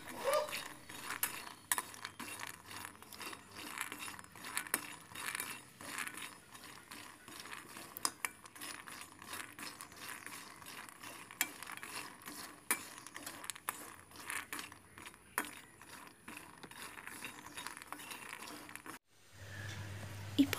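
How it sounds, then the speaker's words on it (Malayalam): Peanuts being dry-roasted and stirred in a pan, a steady quiet stream of rattling, scraping and clicking as the nuts tumble against the metal, ending with a brief dull thump. "ഇപ്പോൾ കടല നന്നായിട്ടൊന്ന് വറുത്തെടുത്തിട്ടുണ്ട്"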